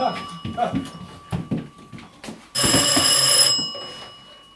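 A telephone rings loudly on a theatre stage, one sustained bright ring burst of about a second, with actors' voices talking before and after it.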